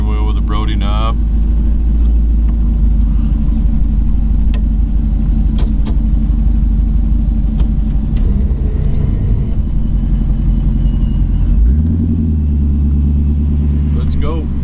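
A 1951 Mercury Custom Convertible with an LS1 engine and 700R4 transmission drives with a loud, steady close-up engine rumble throughout, with a deeper surge in revs near the end.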